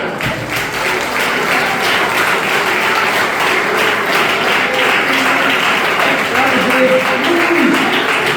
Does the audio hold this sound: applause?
yes